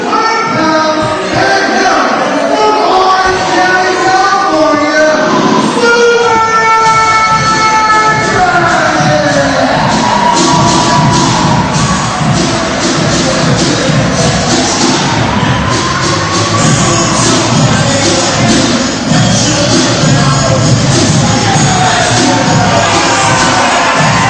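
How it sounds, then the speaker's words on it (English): A crowd at a CZW wrestling show roars and cheers for Super Dragon. The noise is loud and sustained throughout, with mixed voices rising and falling in waves. "You hear the crowd for Super Dragon"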